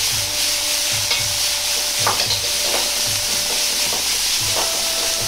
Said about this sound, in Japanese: 野菜を入れたら鍋の温度が下がるので、煮たり煽ったりせず、じっくりと炒めていきます。